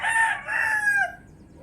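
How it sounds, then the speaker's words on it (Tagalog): A fighting rooster crows once, nearby and loud, in a drawn-out call that falls away at the end. "Alaga ng mga tenant ko, mga manok."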